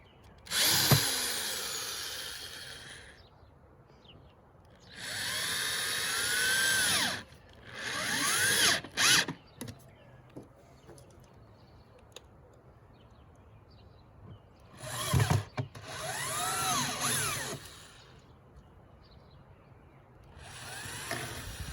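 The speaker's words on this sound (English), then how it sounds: "I think it's satisfying drilling screws into wood" A power drill whirs in several bursts, revving up and slowing as screws are driven into wood for a garden cold frame, with quiet pauses between runs.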